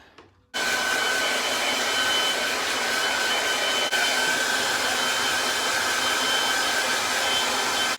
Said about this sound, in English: I'm gonna blow dry now